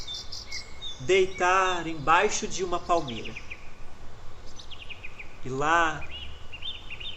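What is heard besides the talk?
birds singing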